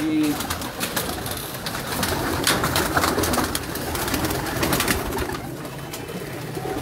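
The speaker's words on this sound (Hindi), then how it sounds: "ये मेरे जी कांटों वाले कबूतर हैं" Fancy-breed pigeons coo softly throughout, their low murmuring calls blending with ambient loft noise and occasional rustling clicks, with a person talking faintly at times.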